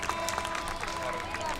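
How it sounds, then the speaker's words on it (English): At an outdoor amphitheater concert, an audience claps in a dense, continuous patter of applause, heard at moderate distance with a voice speaking over it. "give yourselves a big, big round of applause"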